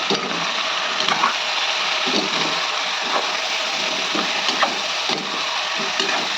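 Chopped carrot frying in ghee in a pan for a vegetable biryani, a steady close sizzle with soft scraping stirs and faint knocks throughout.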